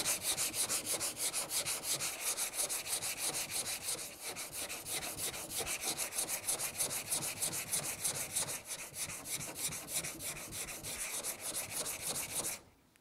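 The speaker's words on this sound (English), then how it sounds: "But we'll do just a quick sanding." Hand sanding through layers of automotive paint, a continuous rapid back-and-forth rasping scrub, close and steady for about twelve seconds before stopping.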